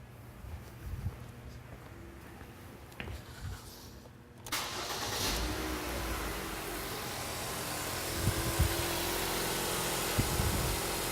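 A car engine cranks and catches about four seconds in after a quiet start, then settles into a steady, even idle close by.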